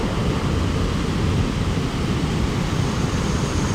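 Water rushes steadily at a lake pumping station, a loud, dense, continuous roar close by with no breaks, like a small waterfall pouring over concrete.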